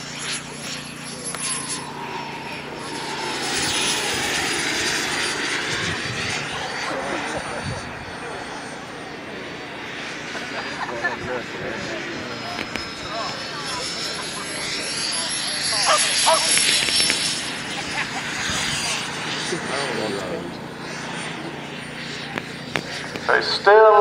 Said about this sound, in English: So it's still gliding, the engine is just ticking over.